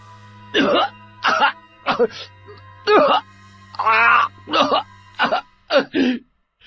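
A series of about ten separate coughs, some throaty and groaning, spaced in an irregular rhythm over steady low hum.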